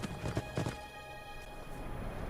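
Horse hooves clip-clop faintly in the Skyrim mod Beyond Skyrim: Bruma, a few quick hoofbeats near the start, then fading under a quiet, hum-filled game ambience.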